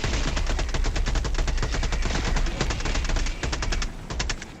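Rapid automatic gunfire from the video game Helldivers II fires in a dense, continuous stream of sharp shots, loud and close, with brief gaps near the end.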